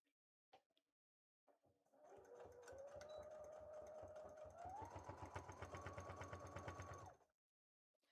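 A sewing machine runs in a steady rapid stitching rhythm for about five seconds while sewing through basted fabric for a Twilight Princess Link cosplay, its pitch rising partway through before it stops, loud and close.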